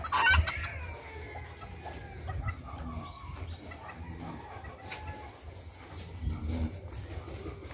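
Kabagi chickens cluck in their coop, with a crow near the start, a busy close-up flock with scattered clucks throughout.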